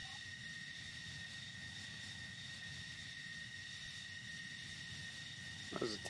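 A steady aircraft engine, a ZG-23 in a video game, drones faintly in the distance throughout, with a brief voice sound near the end.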